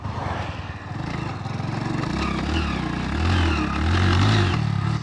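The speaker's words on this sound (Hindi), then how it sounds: "अब देखो मैं दूसरा गियर डालता हूँ," A 27-year-old Hero Honda Splendor Plus motorcycle running on E20 ethanol fuel thumps along close by in second gear, its pitch climbing and surging as it pulls, loud and uneven throughout.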